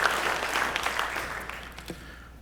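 Brief applause at an outdoors hall of fame induction ceremony, a burst of clapping in a large room that fades away within a couple of seconds.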